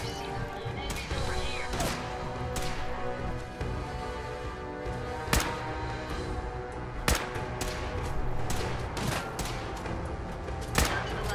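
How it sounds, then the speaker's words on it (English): Explosions and gunfire in a Fallout 4 survival game: heavy booming blasts and crashing impacts land at irregular intervals over a constant loud rumble of combat, several sharp bursts standing out near the end. "And there's something else that's blowing up around here."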